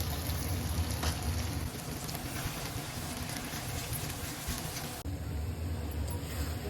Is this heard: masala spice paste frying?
yes